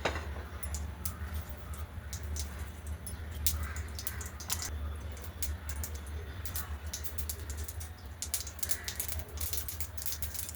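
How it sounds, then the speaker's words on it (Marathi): Mustard seeds crackling in hot oil in a kadhai on a gas stove, a steady run of sharp, dense pops and spits close up over a low burner rumble, continuing throughout. "मोहरी तडतडली"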